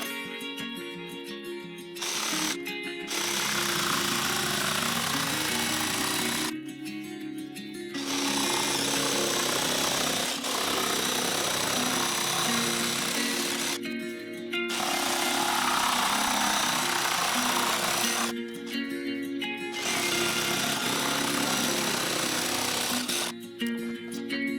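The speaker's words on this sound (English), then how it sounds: "cut out the opening with a jigsaw" A jigsaw cuts an opening in plywood in a workshop, giving a loud, steady buzzing drone in several long runs separated by short pauses, with no talk.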